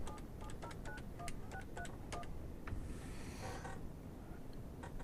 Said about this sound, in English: and then dial the number